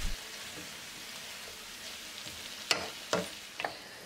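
Chicken and vegetables in orange sauce frying in a pan over medium-low heat, a soft steady sizzle with a few sharp clinks and scrapes of stirring toward the end, quiet and close.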